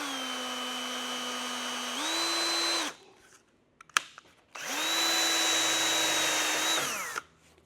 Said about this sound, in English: Now we go back and we drill the hole again.